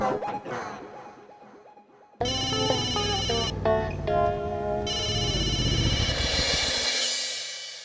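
A phone ringtone plays loudly and repeatedly, a bright electronic melody ringing on without being answered, after some quieter sounds at the start.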